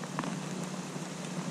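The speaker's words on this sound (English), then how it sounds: "Snowing, sleeting, raining." Mixed rain, sleet and snow falling during a cold front on a bass fishing outing, a steady close hiss of precipitation pattering on surfaces.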